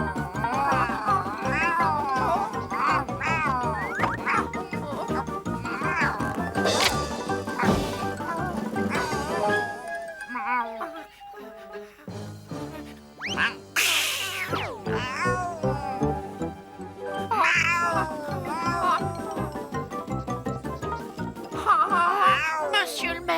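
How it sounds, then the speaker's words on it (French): Cartoon cats meow and caterwaul over and over in a French animated series, with crashes and a thwack in between and music underneath. "Il y a des chats qui me poursuivent, monsieur le maire."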